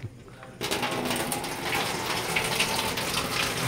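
Water starts gushing abruptly from a motor pump's pipe on a farm after a short quiet moment, then flows in a steady, noisy rush close by.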